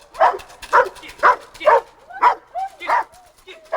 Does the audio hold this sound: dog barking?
yes